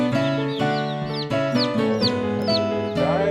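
Day-old chicks, White Rock and Azure Blue breeds, chirp in a rapid, overlapping chorus of bright high peeps, close and continuous.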